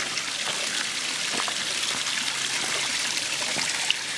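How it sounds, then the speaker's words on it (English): A small waterfall on a rocky creek along a hiking trail in Branson, Missouri, pouring in a steady, full rush of splashing water that stays constant and fairly loud throughout, with no voices. "there's a little tiny waterfall"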